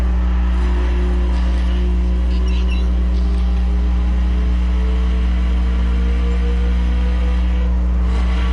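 A 255-horsepower car engine revs hard up to the top of its range, a loud steady high-pitched drone held close to the microphone throughout with no talking.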